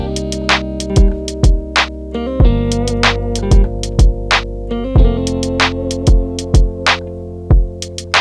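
Guitar playing the intro of a song, with sustained chords and a bass line under sharp, regularly spaced plucked notes, steady and fairly loud with no talking.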